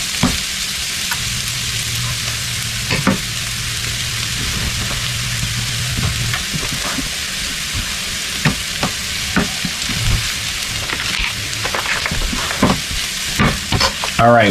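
Garlic sizzles loudly in a hot skillet in a steady frying hiss, punctuated by scraping stirs and clinks of a utensil against the pan.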